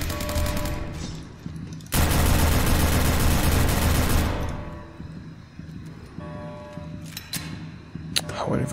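Enemy gunfire in the Roblox game Task Force 2, a dense burst of rapid automatic shots lasting a couple of seconds, followed by scattered single cracks over quieter game ambience.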